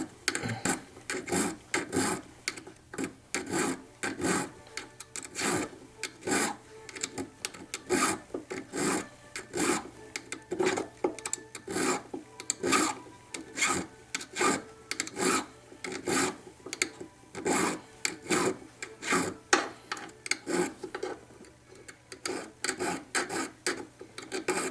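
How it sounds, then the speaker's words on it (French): Steady rasping strokes of a dodane file cutting metal deep in a saw kerf while shaping a massive ball of precious metal, a fast regular back-and-forth rhythm, close and clear, with no talking. "la dodane comme ça permet d'aller profondément dans le trait de scie"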